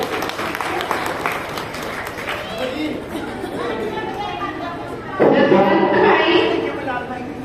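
Crowd clapping at a Shiv Jayanti community programme, a dense patter mixed with chatter and people talking, swelling louder toward the end.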